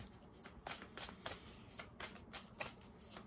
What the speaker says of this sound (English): I'm going to have 2 more cards from this deck.